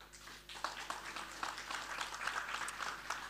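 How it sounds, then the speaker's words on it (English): Faint applause from an audience at a startup accelerator demo day, a soft continuous patter of clapping heard from a distance over a low steady hum. "So a round of applause, please."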